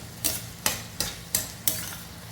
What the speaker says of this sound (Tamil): லைட்டாக வதக்கி விட்டால் போதும் காய்